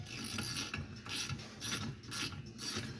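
Craftsman 3/8 flex head ratchet CMMT86323V being handled, quick clicking ratchet pawl bursts repeating several times, close and fairly quiet.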